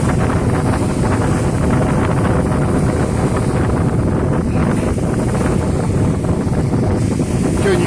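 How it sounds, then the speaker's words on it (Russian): Strong wind blasts across open water near a fishing spot, a loud, constant roaring buffet of gusts against the microphone, with waves faintly underneath. "ветер поднялся"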